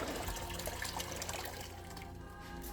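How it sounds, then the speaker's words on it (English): Water and blueberries for blueberry mead pour and splash into a bucket in a continuous, sloshing rush that eases slightly toward the end, close up with no speech. "Okay, dump it in the bucket."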